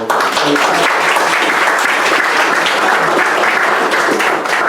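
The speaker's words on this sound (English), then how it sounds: "I'd like to big round of applause for Dolph Worthing." Sustained audience applause fills a room at a community gathering, dense and steady from start to finish, with a few faint voices underneath.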